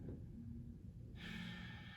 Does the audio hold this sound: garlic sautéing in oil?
no